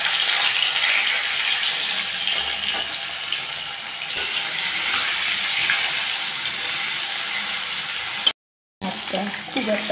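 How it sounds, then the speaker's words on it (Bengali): Snakehead fish, a small one of about 400 grams, sizzles steadily in a wok of hot mustard oil, pieces fried one by one, with a continuous loud crackling hiss that cuts out briefly near the end. "মাছগুলোকে এখন আমি এক এক করে ভেজে নেব।"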